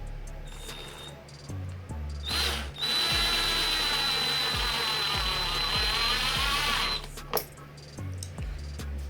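A power drill drives a self-tapping screw into the thin wood panel of a subwoofer box kit. A steady, loud whine with a high tone runs for about five seconds, stops abruptly, and is followed by a brief follow-up buzz. A few clicks and thumps sit underneath.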